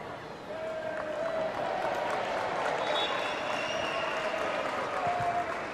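Scattered sarcastic clapping rises from a football crowd at a women's Everton v Chelsea league match, distant and diffuse over the stadium murmur, with a commentator's voice audible.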